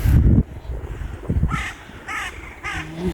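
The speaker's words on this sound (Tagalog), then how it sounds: "mga uwak ba? Ang ingay nila" Several crows caw loudly in a city beside the water, harsh repeated calls near the microphone, with a burst of low rustling at the start.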